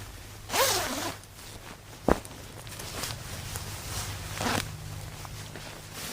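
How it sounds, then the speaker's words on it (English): A side zipper on winter pants is pulled up in a few quick rasping strokes, close and distinct, with soft rustling of fabric and boot steps between them. "So I'm just going to zip it back up."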